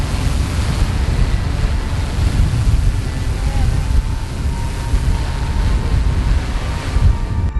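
Strong outdoor wind buffeting the microphone in a continuous low roar with gusty swells, steady and loud throughout, the setting a drone flight session.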